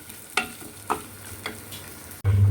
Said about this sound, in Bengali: সেই ক্যাপসিকামটা দিয়ে আরও কিছুক্ষণ এটার সাথে মিলিয়ে দিতে হবে পেঁয়াজটার সাথে